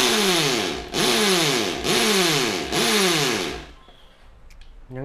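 A Bosch drill in hammer drill mode, running loud and close in four bursts of rough, pulsing motor whine, each spinning up and winding down, before stopping into near silence.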